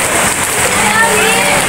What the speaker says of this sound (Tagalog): Kaya lang napakalakas ng ulan.